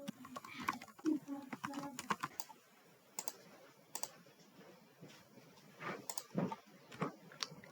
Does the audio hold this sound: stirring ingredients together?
no